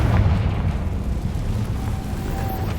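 The Confringo fire spell explodes in Hogwarts Legacy, a loud, steady low rumble and roar that fills the whole stretch without any voices.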